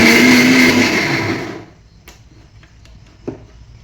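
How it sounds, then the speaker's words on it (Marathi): A mixer grinder whirs loudly while grinding soaked rice, dal and a few fenugreek seeds into idli batter, then cuts off after about a second and a half, leaving quiet with a few small clicks. "तर हे ज्यावेळी मिक्सरला फिरवत आहे ना त्यावेळी हे जास्त वेळ फिरवायचं"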